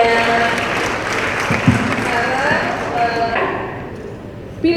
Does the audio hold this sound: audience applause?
yes